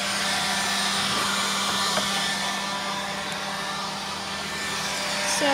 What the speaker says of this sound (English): Mom's just using the leaf blower and blowing everything out.